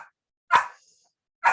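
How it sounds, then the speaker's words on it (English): An indoor dog barks from fairly close, two sharp separate barks about a second apart, each with a short yelp-like tail, set against silence. "Sorry, that's my dog."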